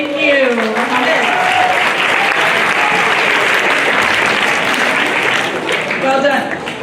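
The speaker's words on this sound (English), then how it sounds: "I would like us to acknowledge our MC. So, round of applause." Audience at a UAE National Day high school gathering at the American Community School of Abu Dhabi applauds the MC, a loud, steady wash of clapping lasting the whole stretch, with a few voices rising briefly near the start.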